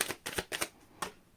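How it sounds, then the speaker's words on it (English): Tarot cards riffled and shuffled by hand in a few quick bursts, close and crisp, with a short pause before a final flick. "Last shuffle."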